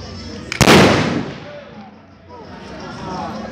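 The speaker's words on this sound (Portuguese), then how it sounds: "o primeiro bacamateiro vai disparar sua arma." A single loud, close blast from a bacamarte blunderbuss fired by a bacamarteiro in Santa Luzia, Belo Jardim, Pernambuco, followed by a decaying rumble and crowd voices.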